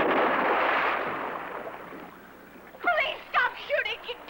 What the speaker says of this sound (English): Please stop shooting.